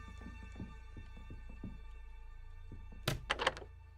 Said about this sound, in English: The fridge door is stuck.